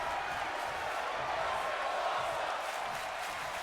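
Wrestling crowd in Atlanta roaring steadily at a distance, a broad wash of cheering and shouting that holds at an even level throughout.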